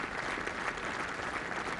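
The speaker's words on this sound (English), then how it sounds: "Good applause here for Luke Donald" Golf spectators at the 2006 World Matchplay Championship applaud Luke Donald, an even, continuous patter of many hands heard at a moderate distance and fairly soft.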